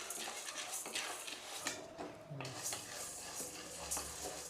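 Dal dry-roasting in a pan for homemade kulambu chilli powder, a soft continuous scraping and rustling of grains stirred against the metal, faint and close, with no talk.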